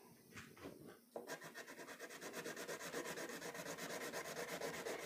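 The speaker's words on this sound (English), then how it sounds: "I'm coloring in the same direction" Light green crayon rubbed onto paper in steady same-direction strokes, a close, quiet scratchy rhythm of rapid repeated rubs that starts after a short pause and continues alone.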